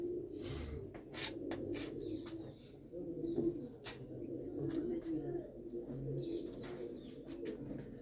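Pigeons of the Mandi Gobindgarh breed at a loft in Mullanpur Kalan cooing softly in low, throaty rolls, with scattered chirps and faint voices in the background.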